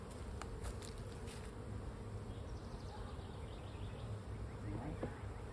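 Honeybees buzz steadily around an open hive during an inspection, a continuous close drone with individual bees flitting past the listener.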